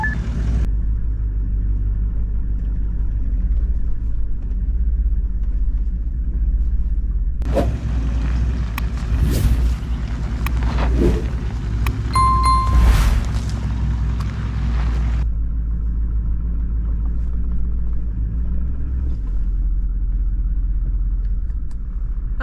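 A car engine hums and rumbles steadily during a manual driving lesson on a cliffside road, with a brief louder stretch of revving and mechanical clunks in the middle before settling back to an even drone.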